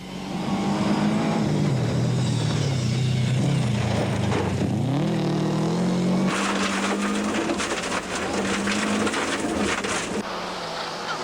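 A Toyota rally car on the 2002 Tour Natal finishing a stage, its engine loud and close, revving and shifting with rising and falling pitch, then a harsher, brighter roar as it accelerates hard past.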